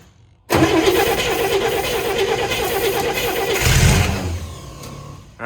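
A Chevrolet C10 engine cranks and catches, bursting into a loud, close roar that holds steady, surges briefly, then drops away as the engine falters.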